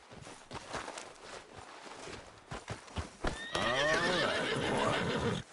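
A horse in the Red Dead Redemption 2 video game clip-clops along with a series of hoof beats before letting out a loud, drawn-out neigh near the end, with no talk over it.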